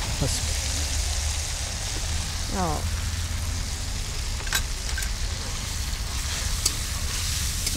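Ginger garlic paste and onions fry in a pan for mutton kali mirch gravy, giving a steady hissing sizzle throughout with occasional clinks, while voices talk over it.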